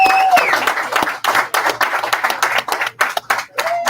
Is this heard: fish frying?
no